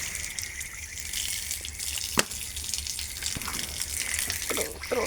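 Water runs quietly in a soft, even stream, with a sharp click or splash near the middle and a few small knocks toward the end.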